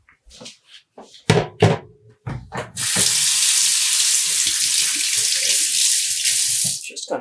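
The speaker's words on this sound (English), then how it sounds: "Just going to rinse my hands a little." A kitchen tap runs in a steady, loud stream as hands are rinsed under it, after a few short knocks and handling sounds, during home dyeing of non-superwash wool yarn.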